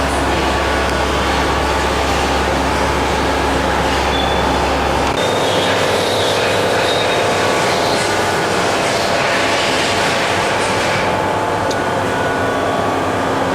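Horizontal boring mill spindle, a new 2011 Milltronic HBM 4 CNC table-type machine with a 4.3-inch spindle, running steadily at 1,000 RPM: a continuous mechanical whir and hum with a low drone that drops away partway through, no talking.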